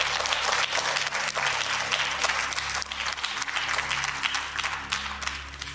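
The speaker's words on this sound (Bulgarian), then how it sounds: "Да аплодираме Искрен Лилов!" Lively studio audience applause for contestant Iskren Lilov on the Bulgarian quiz show Stani Bogat, dense clapping with a steady low hum beneath it and no speech.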